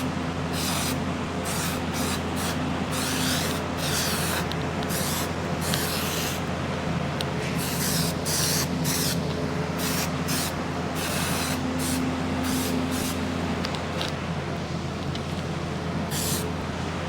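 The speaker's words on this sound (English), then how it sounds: "Now we'll just spray a little onto the pan." An aerosol spray can hisses steadily onto a motorcycle seat pan during a Suzuki TS-250 seat rebuild, with short bursts and brief pauses in a close, continuous spray throughout.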